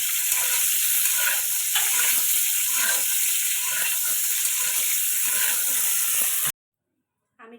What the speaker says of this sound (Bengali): এবার আমি লাল লাল করে ভেজে নেবো।